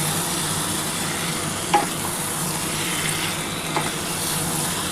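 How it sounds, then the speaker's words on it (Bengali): Chicken frying with spice masala in a pan, a steady close sizzle with soft scraping stirs of a spatula now and then, no talking. "ভালো করে এবার চিকেনটার সাথে মশলাটা কষাতে হবে।"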